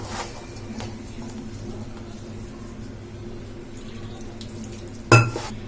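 Water trickles quietly into a bowl of onion bonda batter, ending with a short, sharper splash near the close.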